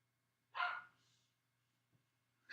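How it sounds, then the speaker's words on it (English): A single faint dog bark from some distance, followed by a soft trailing yip and a low steady hum in the background. "You guys might be able to hear my dog in the background"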